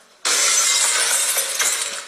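A china tea set smashes, a sudden loud crash of breaking crockery that rings out and slowly tails off, with no voices.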